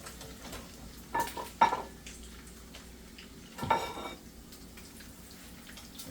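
Rubber spatula stirring eggs in a pan while making bacon, egg and cheese rollups, heard as a few faint scrapes and soft knocks against the pan, quiet and sparse in the room.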